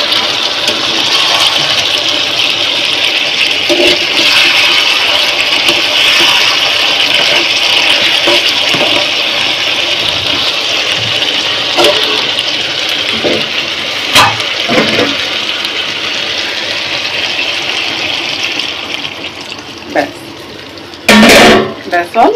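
Broth poured into a hot cooking pan makes a steady, loud splashing hiss that runs for about twenty seconds, with a few knocks and clatters near the end.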